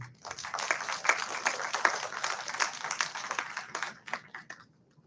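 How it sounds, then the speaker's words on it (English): Scattered clapping from an audience at a university seminar's valedictory session on Shakespeare, moderately near, the sharp handclaps thinning out and fading toward the end. "let us give them a warm, big applause to them"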